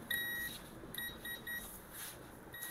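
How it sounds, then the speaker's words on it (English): Multimeter continuity tester beeping while a laptop backlight fuse line is probed: several short high electronic beeps in an irregular series, close and clear over faint background hiss. "Set your meter to continuity."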